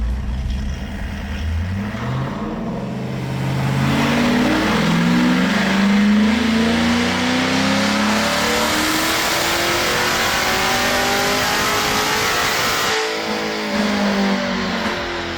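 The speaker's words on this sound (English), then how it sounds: "Vlad straps the car down for the 93 octane tuning session." A C8 Corvette with heads, NS1 camshaft and flex fuel, strapped to a dyno on 93 octane, revs loudly and climbs steadily through the gears, then drops briefly before rising again, with no talk.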